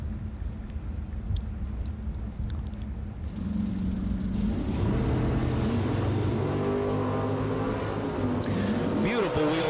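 Bracket racing cars at a drag strip launch together, one a wheel-standing wagon and the other an S10, with a loud droning engine roar that swells and rises in pitch as they pull away, over crowd and announcer noise.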